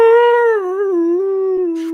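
A person imitates the howl of a dog from a boutique film label's intro, holding one loud, long, wavering tone with a slight drop in pitch, close and alone.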